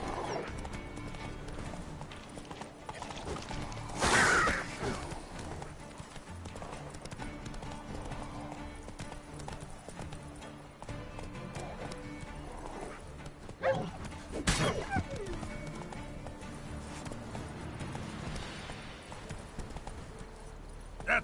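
The horse Roach's hooves clip-clopping at a steady walking pace, moderately close, with a few louder knocks and brief vocal sounds in between.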